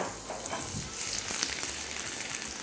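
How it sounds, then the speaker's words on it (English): Chopped garlic dropped into hot olive oil in a pan for penne arrabbiata sizzles and crackles steadily at moderate volume, with faint stirring clicks and no voices. "All of the garlic at once into the pan."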